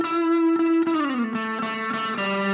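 An electric guitar recorded with inverted phase and no processing plays sustained notes, one held tone bending down then shifting to new pitches, rich in harmonics and fairly loud, with no voice over it.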